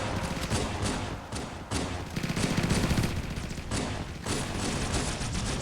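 Weapon fire in a custom shooter campaign, dense continuous bursts of loud rapid shots with brief gaps, close and forceful throughout.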